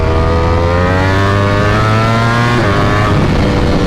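A Ducati V4 SP motorcycle accelerates hard, its loud, close engine note climbing steadily in pitch through the gear, a rising howl heard alone.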